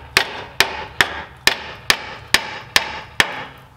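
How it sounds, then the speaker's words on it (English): Eight sharp metallic hammer strikes on a Saab 9-3 front suspension control arm ring out in a steady, evenly spaced rhythm, each blow loud and close with a brief ringing decay. "Hold the knuckle and hammer the control arm."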